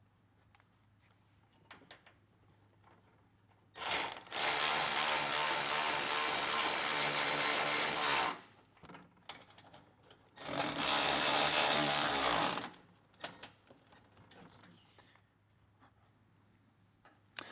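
A power ratchet tightens bracket bolts inside a Ford Bronco wheel well, two loud whirring bursts of several seconds each separated by quiet shop background.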